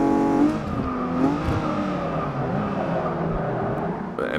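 A sports car is driven hard, its engine roaring and revving as it accelerates, with squealing tires mixed into the steady, moderately loud mechanical noise.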